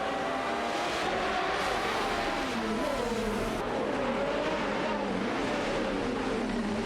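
Racing cars in a video game, a Lamborghini Murcielago RGT and a Ferrari 575 GTC, roar past with engine notes sweeping up and down as they battle side by side, loud and continuous without speech.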